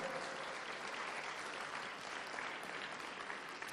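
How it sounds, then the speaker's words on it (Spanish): Congregation in a church service applauding, a steady dense roar of many hands clapping at once, even and unbroken, heard at a distance and fairly faint. "denle ese aplauso al Señor, que lo merece con todo el corazón."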